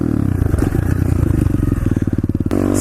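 A small pit bike engine revs hard and close during an attempted nose wheelie, a loud, rapidly pulsing buzz that rises and falls in quick bursts before a sharp change near the end.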